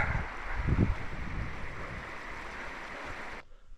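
A mountain stream flows in the Dolomites, a steady rushing hiss of water heard nearby with a few low bumps early on, cutting off abruptly at the end.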